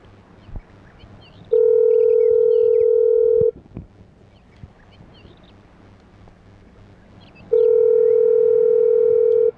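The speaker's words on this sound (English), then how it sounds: "We're listening to the phone ring right now." A telephone ringback tone sounds while a McDonald's is being dialed, two long steady rings several seconds apart, loud and clear over quiet background noise.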